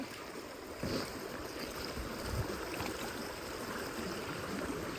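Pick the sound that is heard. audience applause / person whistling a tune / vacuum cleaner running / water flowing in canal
water flowing in canal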